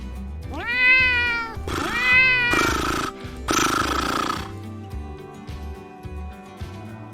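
A cat in a children's phonics read-along story meows several times in a row, with two clear rising-and-falling meows followed by harsher, drawn-out yowls, loud and close with no talking.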